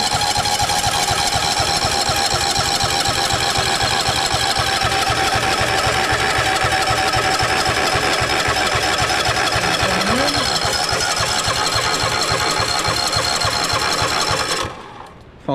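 A cheap zero-turn mower's engine, choked, runs loud and steady close by with a rapid throbbing idle for about fifteen seconds before dropping off abruptly.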